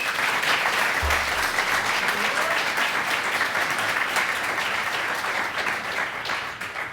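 Sustained applause from an audience at a panel talk on independent filmmaking, dense and steady for the whole stretch, with no voices on top and only a slight easing toward the end.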